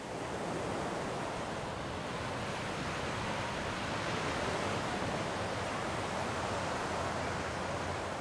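Ocean surf rolling in at Waikiki beach in Hawaii, a steady broad wash of waves with no talk, constant and fairly loud throughout.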